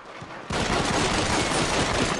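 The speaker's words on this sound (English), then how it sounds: "Why did you use the high-powered pistol against me?" High-powered pistol fire in the Red Dead Redemption game arrives as a loud, dense burst of rapid shots. It starts abruptly after a brief quiet lead-in and carries on nonstop to the end.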